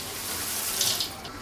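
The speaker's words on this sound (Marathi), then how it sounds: "परातीत पडता तो आवाज येता खळखळ खळखळ खळखळ" Crispy corn chivda stirred by hand in a wide plate gives a continuous dry rattling hiss of tumbling flakes, close and steady throughout.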